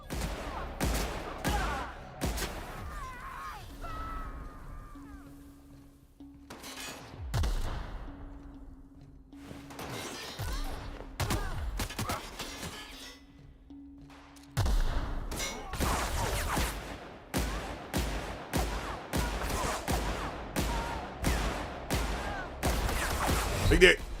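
Video game gunfire in The Outer Worlds, rapid sharp shots cracking in bursts throughout, with a voice talking between volleys.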